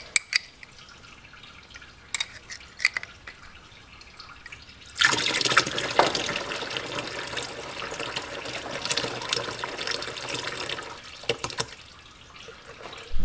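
Water draining from the drain plug beneath the hydraulic filter assembly of a Farmall 460 tractor: a few isolated drips and clinks, then a sudden steady pouring stream that runs for several seconds before tapering off to scattered drips.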